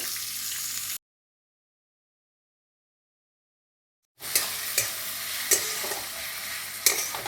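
Salted tomatoes sizzling and frying in a pan, stirred with sharp scraping clacks, after a second of sizzle and a gap of silence the frying returns with several distinct stirring knocks, close and moderately loud.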